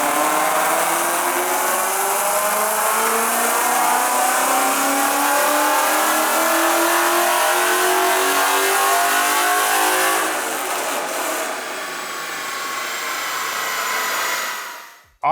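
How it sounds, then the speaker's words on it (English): Nitrous-fed 2015 Ford Mustang GT with a Corsa exhaust on a dyno, one long loud pull with the engine note rising steadily in pitch, then backing off and dropping sharply to quiet near the end. "It's gonna get a little loud with the Corsa exhaust."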